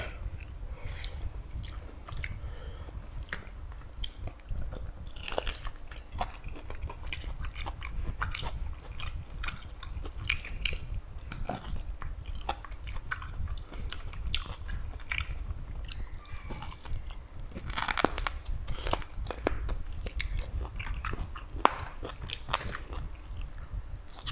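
Close, steady chewing of tender braised pork leg with crunchy bits, a long run of wet bites and crisp crunches repeating alone without talk.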